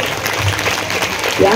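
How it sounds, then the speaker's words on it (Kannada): A village crowd at a Hanuman temple kalash-raising ceremony claps in a dense, steady burst, with a voice talking over the applause. "ಸ್ವಲ್ಪ ಜೋರಾಗಿ ಚಪ್ಪಾಳೆ ತಟ್ರಿ."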